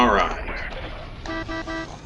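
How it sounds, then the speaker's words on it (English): A weak, small vehicle horn sounds in the Crossout vehicle combat game, giving a few short, thin toots with a harmonic stack near the end of the clip. Battle noise sits underneath, and a voice speaks briefly at the start. "Weak little horn."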